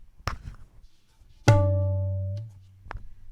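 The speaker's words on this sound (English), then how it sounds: "when I combine my high and my low sounds, it's da. It sounds like this." A few light taps, then one strong resonant tabla stroke ("da") combining high and low drums, a sharp high ring with a deep booming bass that sustains, followed by a soft tap.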